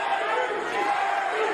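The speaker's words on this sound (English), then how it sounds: "And the crowd chanting, Gary" The crowd at a professional boxing title fight chants together in a dense, loud, sustained roar of many voices filling the arena.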